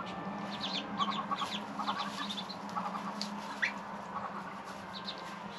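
A Muscovy duck mother gives soft, repeated calls to her ducklings, clusters of short chirping notes over a steady low background hum, fairly close and without talk.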